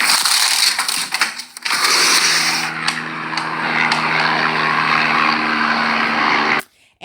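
A helicopter passes overhead, a loud broadband roar with a steady low droning hum that holds for several seconds and then cuts off abruptly.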